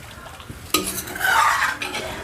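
A spoon stirs a mixture warming in a pan, a sudden scrape followed by steady rubbing and faint sizzling, close by with no one talking.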